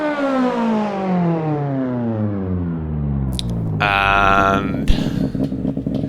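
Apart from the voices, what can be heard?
Peugeot 306 Kit Car engine revving, Richard Burns Rally video game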